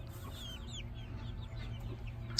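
Backyard chickens, among them silver and golden laced Wyandottes and Wheaten Ameraucanas, give faint, soft clucks and murmurs over a low steady hum.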